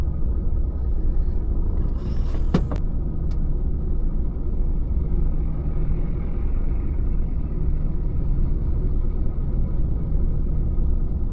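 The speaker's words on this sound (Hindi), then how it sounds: "गाड़ी में थोड़ी आगे कर लेता हूँ" A truck engine idles and rumbles low and steady while the vehicle creeps a short way forward on a European road, with a few brief clicks and taps early on.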